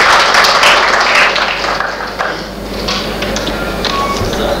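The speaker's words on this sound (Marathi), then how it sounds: "सरांसाठी एकदा जोरदार टाळ्या" A lecture-series audience of the Udyog Bank and Rotary Club gives dense, loud applause for the speaker, which gradually thins out into scattered claps and room noise.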